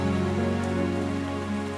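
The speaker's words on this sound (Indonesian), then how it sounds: "Kita ketawa di bawah derasnya hujan." Heavy rain pours down steadily outdoors, a dense continuous wash of drops close by and loud throughout, with no voices over it.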